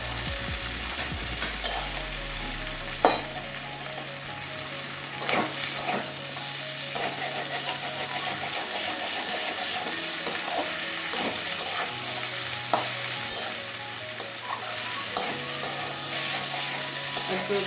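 Potatoes and ivy gourd (kundru) frying in an open pan, with a steady sizzle and occasional stirring clicks and scrapes, with a low hum underneath.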